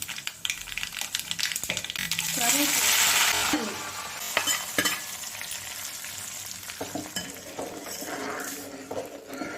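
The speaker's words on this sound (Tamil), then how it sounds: "எண்ணெயில் கடுகு, உளுத்தம்பருப்பு, சீரகம் கொஞ்சம், காஞ்ச மிளகாய் 2" Mustard seeds, urad dal, cumin and two dried chillies fry in hot oil for sambar, a close sizzling burst with stirring and clinks of a metal utensil against the pan, then quieter crackling.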